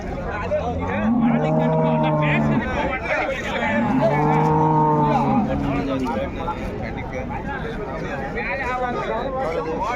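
Dairy cows at a Friday cattle market give two long, loud moos, one after the other, amid a busy hubbub of people talking nearby.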